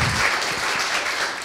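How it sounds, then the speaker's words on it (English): A conference audience applauds the panelists at a climate services session, a dense, steady wash of clapping that holds at an even level throughout, with no voices over it. "I would like to, if you can give them applause."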